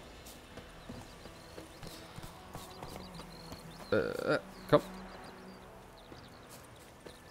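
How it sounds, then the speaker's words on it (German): Horse hooves clip-clopping in the video game The Witcher 3, a steady rhythmic trot of hoofbeats with a louder burst near the middle, while someone speaks briefly over faint game ambience. "Ruf mal mein Pferd."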